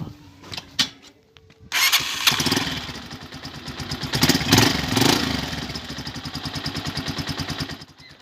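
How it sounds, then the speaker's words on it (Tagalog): A Honda TMX 125 motorcycle engine is started after a fuel filter fitting: a few clicks and short bursts, then it catches and settles into a close, steady putter that swells and eases before cutting off. "kailangan nating buksan yung motor"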